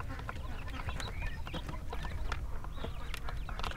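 Male quail hatched in a home incubator call loudly and repeatedly among a busy flock, with sharp chirps and clucking over a dense, low rumbling background.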